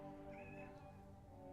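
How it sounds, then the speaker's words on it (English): A house cat gives a faint meow, heard once as a thin rising cry beneath a steady bed of droning game music. "Did you guys hear that meow?"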